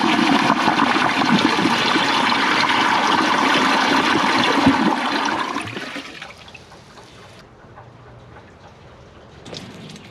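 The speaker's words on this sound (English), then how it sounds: "Let's see how powerful the water pressure is on the flush." A 1996 Kohler Portrait Lite toilet flushing during a dribble test: a loud, steady rush of water for about five seconds that fades into a quieter trickle and gurgle as the tank refills.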